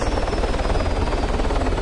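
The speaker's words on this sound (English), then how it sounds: "the helicopter's actually spinning down" A steady, loud whirring helicopter rotor spinning down in the video game Arma 3, with a rapid rhythmic chop, continuous throughout and dominating the sound.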